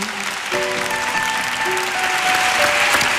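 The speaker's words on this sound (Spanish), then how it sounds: "este aplauso te lo mandan" An audience on a TV music show breaks into steady, full applause that swells slightly over a few seconds, with faint tonal music or voices underneath.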